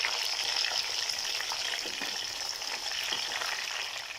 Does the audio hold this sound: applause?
no